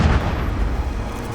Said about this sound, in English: I love the animations for the explosions in this game.